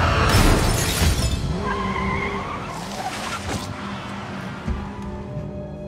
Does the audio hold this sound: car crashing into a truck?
yes